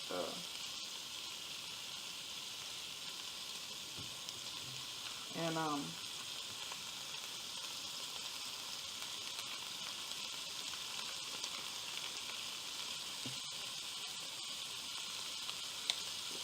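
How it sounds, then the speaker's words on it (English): Bacon sizzling in a cast iron skillet, a steady low crackle throughout with a brief scrape or clatter partway, no talking over it. "And I'm cooking this in a cast iron skillet."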